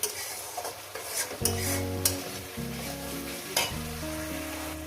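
Spice masala fried and stirred in a pan for an egg dish, a steady close sizzle broken by repeated scraping strokes of a spoon against the pan, with clear clinks and louder stirring bursts.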